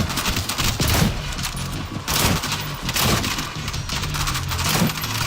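Rapid gunfire bursts in the zombie shooter World War Z Aftermath, loud and dense, with repeated volleys and booms roughly every second over a continuous battle din.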